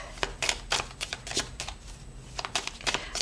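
Cards riffled and shuffled in repeated bursts of crisp, papery flutter, close and fairly loud, with short pauses between passes and no talk.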